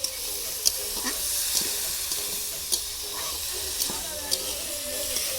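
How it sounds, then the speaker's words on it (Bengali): Potatoes frying in a pan at an outdoor picnic cook-up, a continuous bright hiss and sizzle with occasional stirring clinks and taps, heard close and steady. "আমার মা আলু ভাজা করছে এই মুহূর্তে"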